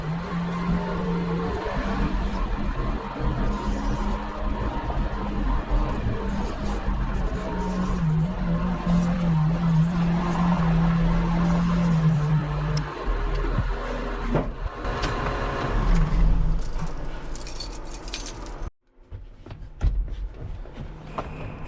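A warmed-up Cat 926M wheel loader drives into a shop, its diesel engine a steady low rumble with a droning tone. A brief near-silence comes late, then the idle resumes at moderate volume.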